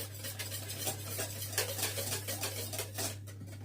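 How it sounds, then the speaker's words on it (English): Homemade custard being stirred in a pan, a spoon scraping and clinking in a quick, even rhythm close up over a constant low hum. "at this point it's stir until the consistency begins to change"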